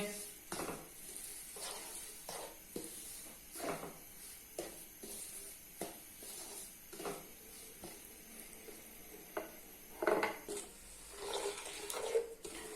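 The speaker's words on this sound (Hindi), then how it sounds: "घी को हमने गर्म कर लिया है। अब हम उसमें डालेंगे सूजी, अब हम इसको बिल्कुल हल्की आंच पे अच्छे से भून लेंगे।" Semolina roasting in hot ghee in a pan over a low flame, giving a soft steady sizzle with intermittent scraping and stirring strokes at close range, no voices.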